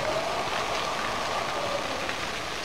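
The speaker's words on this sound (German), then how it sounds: "Es regnet, aber der Regen bewegt sich nicht" Steady rain pours down in the horror video game Cry of Fear, a dense, even hiss that stays constant and close throughout with no voices over it.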